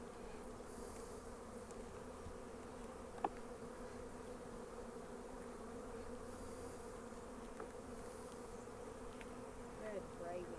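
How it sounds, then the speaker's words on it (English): A dense, steady drone of many honey bees buzzing around two hives on a pallet, close up and continuous, with a few faint clicks. "Look at all these bees."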